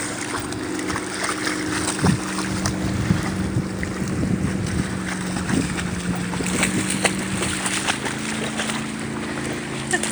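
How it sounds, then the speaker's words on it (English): A fire and rescue boat engine hums low and steady beside choppy water, with wind buffeting the microphone and waves slapping throughout. "The fire and rescue boat was just in and we're getting waves."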